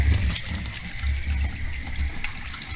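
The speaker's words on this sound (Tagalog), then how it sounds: "Ayan na, may linya na po ng tubig." Water running steadily from a newly connected tap line, a continuous splashing rush held at an even level for the whole stretch with no voices over it.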